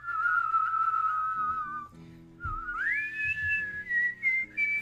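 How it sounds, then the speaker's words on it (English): People whistle a melody as a clear, sustained whistled tune, one long held phrase giving way to a rising slide and then shorter repeated notes, close and loud, with faint background hum. "let's try and whistle this now"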